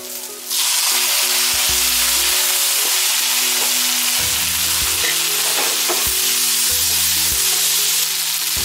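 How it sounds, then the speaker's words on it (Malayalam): Chopped tomato frying and sizzling in a pan with chilli powder and turmeric for a Lakshadweep-style tuna roast, a steady loud hiss with stirring scrapes underneath, no voices. "നല്ലതുപോലെ ഇതിൽ കിടന്ന് നല്ലതുപോലെ ഒന്ന് ഫ്രൈ ആയിട്ട് വരണം തക്കാളി"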